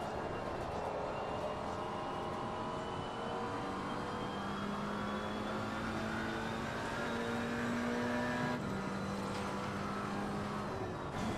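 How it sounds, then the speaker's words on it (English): A V12 GT3 race car in Assetto Corsa Competizione at Suzuka roars steadily throughout, its engine note climbing in pitch through the gears with a brief dip near the end, loud and continuous against a constant racing drone. "That V12, you can hear that coming a mile off."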